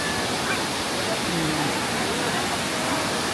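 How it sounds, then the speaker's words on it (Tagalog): The Mother Falls roars with a constant, dense rush of falling water heard close up, an even wash of noise with no breaks. "Look at that. This is the Mother Falls."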